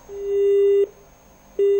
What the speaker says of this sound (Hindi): फोन उनका डिस्कनेक्ट हो गया है।